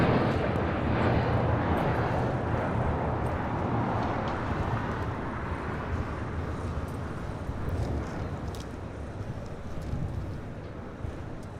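Boeing 787-10 Dreamliner at LAX, a loud broadband jet roar that holds steady for over ten seconds and fades only slightly, mixed with wind buffeting the microphone.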